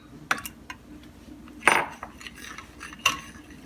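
A spoon stirs while making a chocolate raspberry tart, giving a few sparse metallic clinks and scrapes against the dish, close by, with quiet gaps between them.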